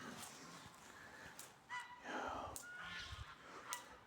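Geese honk in a grassy enclosure fenced with an off-grid electric fence in Russia, several short, harsh honks overlapping at a moderate distance amid faint outdoor noise.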